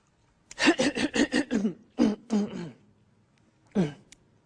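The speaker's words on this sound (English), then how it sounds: "I'm clearing my throat." A man clears his throat several times in a quick, rhythmic series of rasping bursts, then pauses and gives one more close, moderately loud throat clear.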